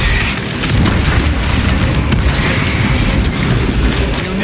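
A frag grenade explosion in the Warhammer 40000 Space Marine 2 video game: a loud, rumbling blast churns through a dense battle din, with crackling debris and steady low booms and no clear talk.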